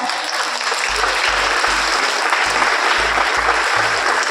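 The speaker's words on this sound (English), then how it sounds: "Give a big clap." Applause from an audience at a school reading week celebration, steady broad clapping throughout, with a pulsing low thump repeating beneath it.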